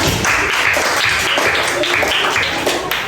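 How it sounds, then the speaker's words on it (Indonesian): Students in a fifth-grade class applaud group 2 after its presentation, a dense, steady burst of clapping with voices mixed in. "Silakan tepuk tangan untuk kelompok 2"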